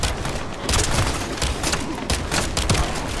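Pistol fire in a first-person shooter video game: a rapid series of sharp, loud shots crack out in irregular bursts over about three seconds, close and alone with no talking.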